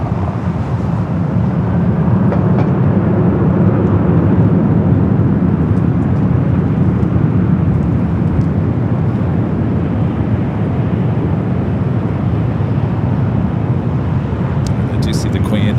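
Aircraft engines roar steadily at LAX airport in Los Angeles, a broad sustained rumble with wind noise holding at the same loudness throughout, while a voice talks over it.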